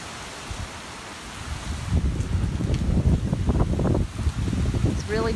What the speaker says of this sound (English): I think the important thing is watching the rain go by and listening to the wind.